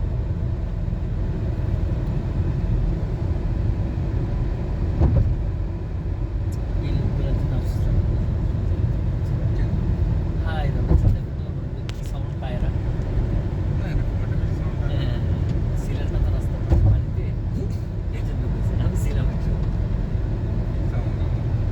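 A continuous low rumble from a train near a road in Dhaka at night fills the air, steady and heavy, while people talk over it.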